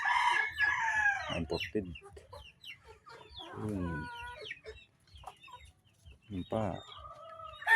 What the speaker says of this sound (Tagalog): Sa uncle ko na itong mga manok.